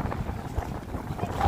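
Strong sea waves and wind buffet a boat at sea, a steady low roar with surging swells and wind rumble on the microphone, loud and close throughout.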